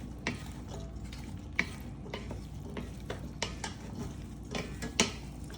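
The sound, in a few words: stirring shrimp and black beans in a pan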